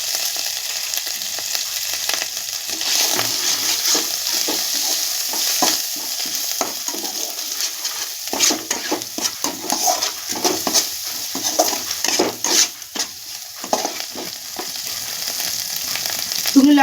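Oil spattering in a pan while frying fish head with taro greens, the flour still wet, giving a busy crackling sizzle with stirring scrapes and sharp pops throughout.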